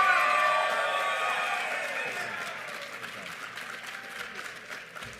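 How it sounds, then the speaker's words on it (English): Applause with cheering and whoops rising from a crowd at a Texas primary election night event, loud at first with excited shouts and voices, then tapering off over several seconds. "Please give her another round of applause."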